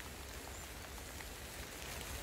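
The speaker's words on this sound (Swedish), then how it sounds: "Det regnar och blir kallare." Steady rain falls outdoors as a dense, even hiss of small drops pattering on surfaces, soft and continuous with no voices.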